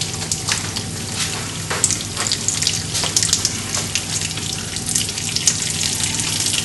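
Nuts frying in oil in a pan, with a steady, crackling sizzle that continues throughout at a fairly even level, no voices.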